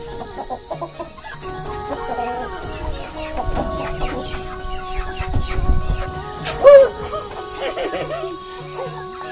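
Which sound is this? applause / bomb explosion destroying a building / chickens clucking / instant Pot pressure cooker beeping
chickens clucking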